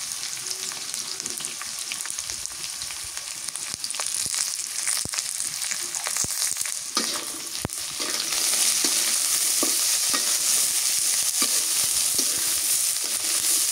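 Onions frying in hot oil in a home kitchen for a curry of sarpunti fish with Malabar spinach, a steady dense sizzle with scattered scraping stirs that grows louder partway through, with no talk.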